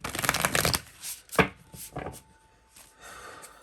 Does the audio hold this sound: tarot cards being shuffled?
yes